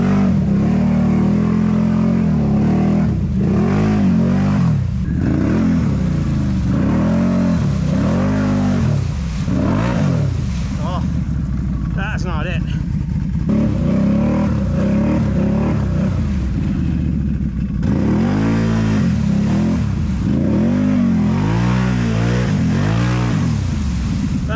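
A Can-Am Renegade 1000 XMR ATV stuck in thick mud, its engine revving hard and continuously in repeated rising and falling surges, loud and close throughout.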